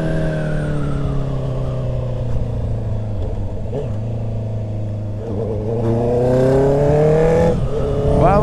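Honda CR 650 R motorcycle from 2022 fitted with a stainless steel 4-into-1 Atalla exhaust, droning steadily at a fairly even idle-like pitch before building into rising revs near the end, heard close with no talking.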